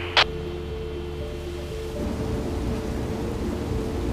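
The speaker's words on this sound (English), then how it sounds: "Steve, can we get some rain in the northeast quadrant, please?" Artificial rainfall sprays down over a model tropical forest in a climate-controlled research facility, a steady hiss that swells after a brief sharp click and then holds evenly, with no talking.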